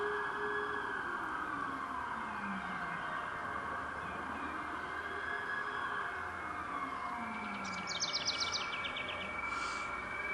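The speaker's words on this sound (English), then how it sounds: "We also have a siren going by right now. It's the paramedics and the police." Paramedic and police sirens pass by on a street corner in Spotswood, wailing in slow rising and falling sweeps at moderate distance, with birds chirping faintly near the end.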